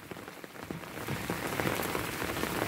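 Heavy rain pours steadily onto a village garden, a dense even hiss with scattered drop patter that grows slightly louder midway, with no voices.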